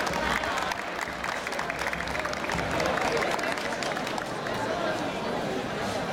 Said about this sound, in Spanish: recibamos pues con fuertes aplausos al alumno Anthony Ninalaya del quinto A